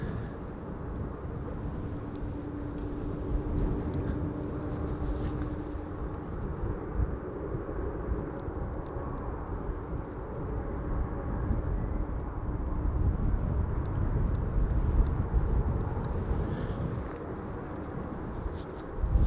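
KLM flight 1932 from Geneva, flying downwind toward runway 06, makes a steady, distant jet drone that swells slightly toward the end.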